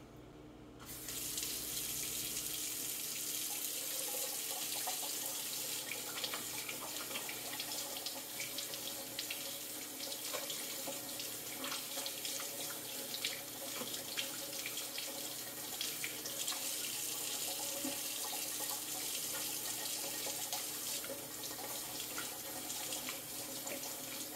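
A kitchen tap runs steadily into a sink as lard is washed off hands while a turkey is prepared for oven roasting; the flow starts abruptly and stays close and continuous, with no talking.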